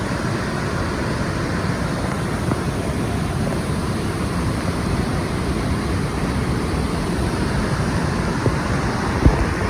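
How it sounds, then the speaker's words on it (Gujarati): Continuous loud roar of rushing water at the Shetrunji dam on the Shetrunji river, dense and unbroken throughout, with no voices. "પાણીનો જ અવાજ આવશે આમાં."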